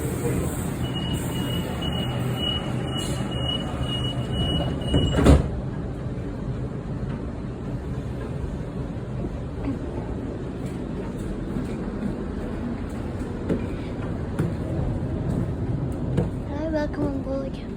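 A Sydney Trains Waratah passenger train closes its doors with a sharp thump, then rolls away from the platform with a steady low rumble. A faint high tone sounds early on.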